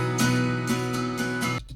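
Unprocessed 12-string acoustic guitar for a song recreation, strummed in bright rhythmic chords with a full shimmering ring, four or five strums before stopping abruptly.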